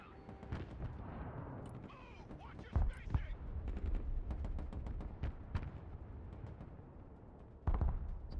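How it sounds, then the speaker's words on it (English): Gunfire and light machine gun rounds crack and thump in the combat game Broken Arrow, scattered shots and short bursts with a few heavier booms, under quiet background noise. "He's letting me pepper him with LMG rounds."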